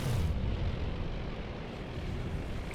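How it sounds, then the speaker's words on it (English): Bombs exploding on and around a ship in the naval strategy game Task Force Admiral: a sustained, heavy, rumbling roar of blasts, dense and continuous with no pauses, loud and close. "Bombs dropping all around"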